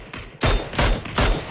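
Rapid bursts of gunfire in PUBG, three loud, sharp volleys in quick succession with brief gaps between them, close and punchy.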